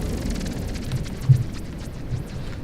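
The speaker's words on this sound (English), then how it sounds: "Big explosions there. These little ships never stood a chance." Deep rumbling blasts of ships exploding in the naval combat game From the Depths roll on as a heavy low roar, with one sharper thump midway.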